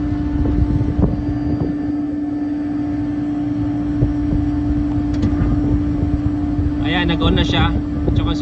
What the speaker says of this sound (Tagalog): Dalawang compressor na yung umanda.